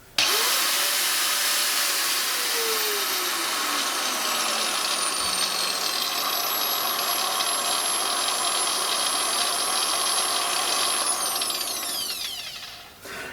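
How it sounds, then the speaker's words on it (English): A Ferrex corded angle grinder runs at full speed with a loud, steady high whine, then its pitch slides down sharply near the end as it slows. "Let's run it and then slow the thing right down."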